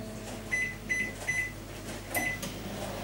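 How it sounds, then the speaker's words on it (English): A microwave oven hums quietly while cooking risotto, with a series of short electronic beeps, three close together and another a moment later. "pop it in our microwave. It's going to go in here for 3 to 4 minutes"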